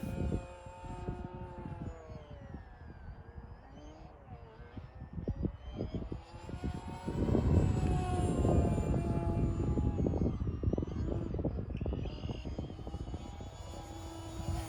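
An E-flite SE5A 900mm radio-controlled model plane buzzes overhead, its electric motor whine rising and falling in pitch as it passes low, swelling louder midway and then easing off under wind noise.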